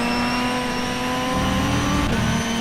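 In the rFactor 2 racing game, a race car engine screams at high revs with a loud, continuous, steady drone and a brief dip at a gear change.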